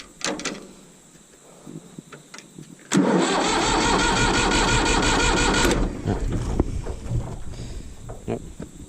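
A Massey Ferguson 35 tractor with a fuel blockage cranks briefly, catches suddenly and runs loudly for a few seconds, then settles to a lower rumble among clanks and knocks.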